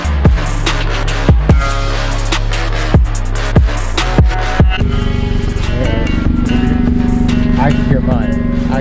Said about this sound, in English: I can't hear your exhaust